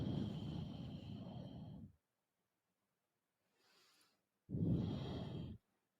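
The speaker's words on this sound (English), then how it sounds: "Some big deep breaths here." Two bursts of deep, loud breathing during a power yoga HIIT session, a long exhale then a pause with a faint breath, followed by another strong full breath, close and without talk.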